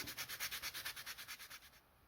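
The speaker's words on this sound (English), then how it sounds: "Use a bit of sandpaper, wrap around the tube" Sandpaper wrapped around a Nerf LongStrike CS-6 plastic tube rubs back and forth in quick, even strokes, a steady rhythmic scratching close by that stops abruptly.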